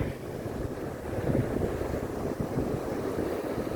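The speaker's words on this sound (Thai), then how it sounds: "ทะเลวันนี้ก็คลื่นค่อนข้าง ก็ไม่แรงนะครับ นิดหน่อย" Gentle sea waves wash onto a beach at Rayong, Thailand, a steady broadband rush with heavy wind buffeting the microphone throughout, continuous and fairly loud with no voices.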